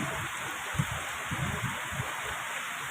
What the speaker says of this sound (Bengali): বৃষ্টিটা একভাবেই হচ্ছে বৃষ্টিটার কোনো পরিবর্তন নেই দেখুন